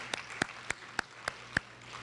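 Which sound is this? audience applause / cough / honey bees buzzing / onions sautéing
audience applause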